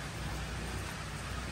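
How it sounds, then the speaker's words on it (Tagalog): Steady rain falls outdoors in a dense, even hiss that stays unbroken throughout, with no voices. "Ngayon ulan no."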